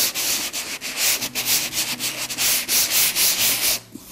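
Sandpaper rubs briskly over a wooden box in quick, rhythmic back-and-forth strokes, close and continuous, with no talking.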